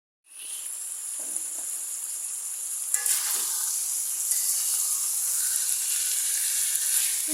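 Stems and jackfruit seeds sizzle steadily while being sautéed, a constant bright hiss starting abruptly and holding throughout, with a few faint spoon clinks, close and without talk.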